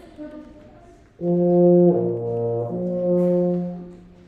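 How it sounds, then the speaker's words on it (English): A euphonium plays a few sustained, mellow brass notes in sequence, warm and fairly close, with no voices. "And then if I put that in the euphonium,"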